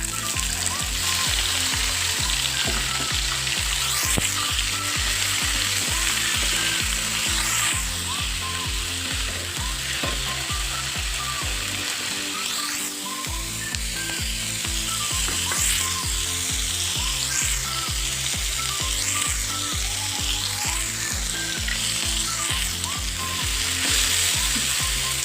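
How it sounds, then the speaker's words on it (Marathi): Onion and tomato masala fries in oil for an egg curry, a loud, continuous close-up sizzle with steady rhythmic scraping and stirring throughout and a brief dip in the middle, with no talking. "हा मसाला आपल्याला चांगला भाजून घ्यायचा आहे."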